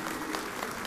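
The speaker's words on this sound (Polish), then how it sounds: "Wielkie brawa" Applause from a folk concert audience celebrating a fifth-anniversary finale of a folk education programme, a dense steady patter of many hands filling the brief moment, moderately loud and unbroken.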